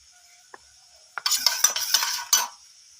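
A metal spoon clinks and scrapes against a pan while tomato sauce is added to chilli chicken, making a short cluster of close, bright knocks over a faint sizzle, with a few soft taps just before.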